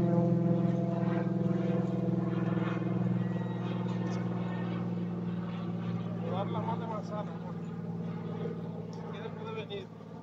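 A small light aircraft flying over lemon orchards gives a steady, close, humming engine drone throughout, with a voice talking over it.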